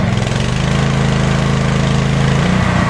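A Zegor Din-open 3999 inverter generator, rated 3.7/4 kW, runs under load with a loud, steady engine drone and a firm low hum, close up and with no talking.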